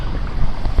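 Strong wind on a mountain trek up Kumara Parvata buffets the microphone with a steady, loud, low roar that swells and dips in gusts, with no one speaking.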